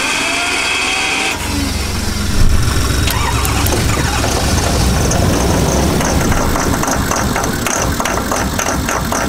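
A truck engine cranks, catches and then runs loud and close, revving with a rough mid-pitched roar and occasional squeal while stranded on a winter road trip from Boundary to Calgary, steady throughout with no talking.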